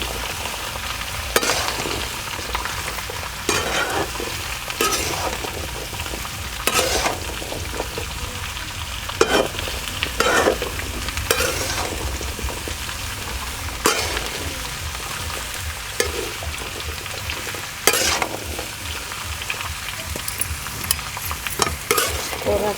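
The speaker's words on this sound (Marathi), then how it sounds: "ते तेलामध्येच आपल्याला परतून घ्यायचं वर करून आहे ना थोडंसं आपण हे परतून घेऊया" Pumpkin pieces sizzle in hot oil while being stirred and turned over, a steady frying hiss broken by repeated scraping strokes of the spoon through a long stretch with no talking.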